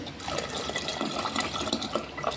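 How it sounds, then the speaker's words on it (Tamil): Leftover cooking water poured into cooked spinach for a Tamil keerai kadaiyal, a close, steady liquid splashing and gurgling stream that runs the whole time without talk. "இப்போ நமக்கு மீதியாக இருக்கிற இந்த மற்ற தண்ணியை நம்ம இதிலே சேர்த்து"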